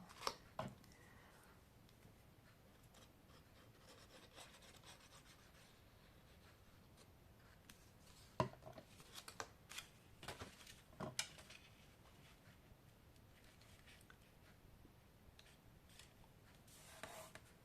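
Scissors cutting paper for a scrapbooking folder project, with faint close snips and rustles scattered across a quiet background and a few sharper clicks.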